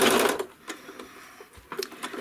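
A sewing machine stitches a ribbon candy quilting pattern, running in a fast burst of rapid needle strokes, then stopping and starting again in short bursts, close and clear.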